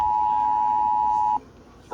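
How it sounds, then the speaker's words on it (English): Phone emergency alert tone: a loud, piercing steady electronic beep held for over a second, then cut off abruptly, with a short burst of the tone returning at the end. "The phone alert."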